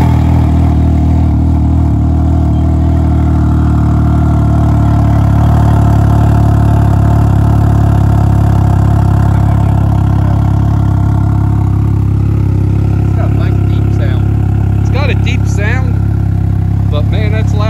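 A Ryker three-wheeler with a modified exhaust runs close by, a deep, loud, steady engine rumble with a strong low throb, a voice talking over it and some rev changes toward the end.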